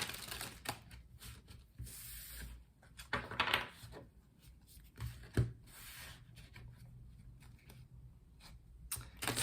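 Soft papery shuffling and riffling of tarot cards from the Everyday Witch Tarot deck in irregular bursts, fairly quiet and close, with brief louder flutters and no talking.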